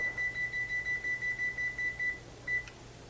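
A kitchen timer beeps in a steady run of about a dozen short, regular tones, then pauses and gives one more beep, under a low steady hum while spaghetti cooks for a Bolognese dinner.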